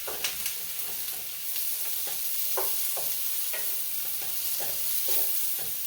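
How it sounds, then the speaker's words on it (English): Vegetables with salt-free seasoning cooking in a pan until tender, a soft steady sizzle broken by light scraping ticks of stirring, quiet and close with no talk. "I'm just going to let this cook until all the vegetables get tender."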